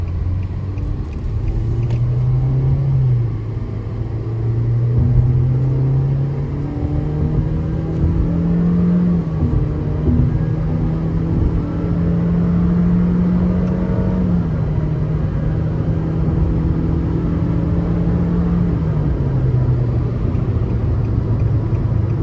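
A 2025 Nissan Versa S accelerating onto the interstate, its engine droning loud and steady from inside the cabin as the pitch climbs and holds under a constant road rumble, with no talk.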